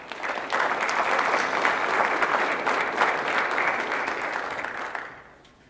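Sustained applause from an audience at a high school National Honor Society induction ceremony welcoming the assistant principal, steady and dense for about five seconds before fading out.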